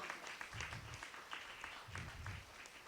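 A church congregation claps during a Telugu sermon by a pastor, a dense, fairly quiet patter of hands that swells and eases across nearly three seconds, with faint low murmurs underneath.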